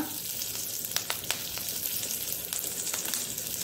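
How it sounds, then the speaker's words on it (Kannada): Curry leaves dropped into hot oil in a pan, cooking for a South Indian chutney, give a steady, close crackling sizzle with a few sharper pops standing out over the dense hiss. "ಈಗ ಸ್ವಲ್ಪ ಕರಿಬೇವಿನ ಸೊಪ್ಪನ್ನು ಹಾಕೊಳ್ಳೋಣ."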